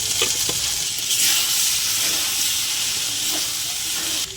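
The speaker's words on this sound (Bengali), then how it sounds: "ভালো করে কষিয়ে নেবো" Close, continuous sizzling of potato frying in a pan with fried spices, coriander powder, cumin powder and turmeric, with a few scraping stirs near the start.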